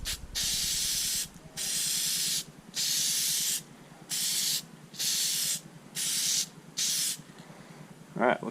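Spray can of Plasti Dip coating going onto Hyundai badges in bursts: seven sustained, loud hisses, each one to two seconds long, separated by short pauses, heard close up, followed by a brief rattle or clatter at the end.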